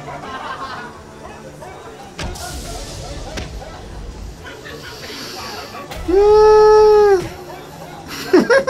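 Dogs howl in one sustained, rising-and-falling cry lasting about a second, fairly loud against a busy background of noise and voices.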